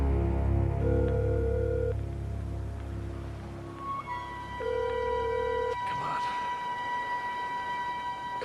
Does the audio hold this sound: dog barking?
no